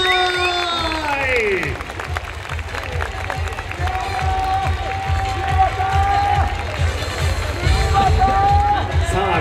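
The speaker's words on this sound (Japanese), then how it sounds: "皆様、今日一番の大きな拍手でお迎えください" A large crowd at a Japanese dance festival awards ceremony claps and cheers steadily throughout, a dense wash of applause with voices talking over it.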